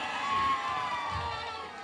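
Loud, sustained crowd cheering and shouting at a BRS party political rally in Hanumakonda, a dense wash of many voices welcoming a leader.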